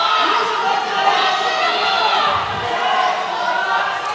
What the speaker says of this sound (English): Crowd's really getting behind him.